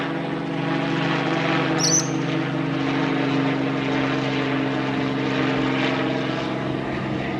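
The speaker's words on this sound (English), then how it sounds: "Rescue chopper up there." A rescue helicopter drones steadily overhead during flooding, its engine and rotor hum continuous and fairly loud throughout, with no voices.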